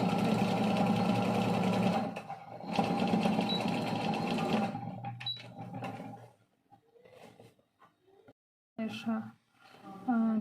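Sewing machine stitching a dress seam about 0.5 mm from an existing stitch line, running in steady loud bursts that stop and start, with quieter handling noises in the pauses toward the end.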